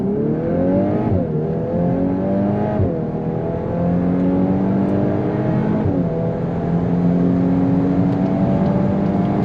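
A 2021 VW Golf R at full throttle on the German autobahn, its engine note climbing steadily through repeated gear changes, loud and close from inside the cabin with no talk.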